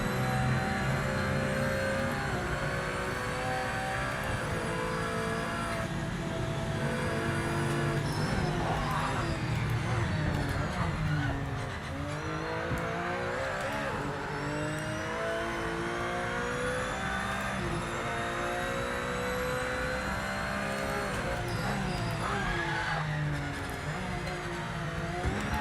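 A Porsche 996 race car in a racing game, its engine droning loud and continuous throughout, pitch climbing and dropping through gear changes and shifts in acceleration.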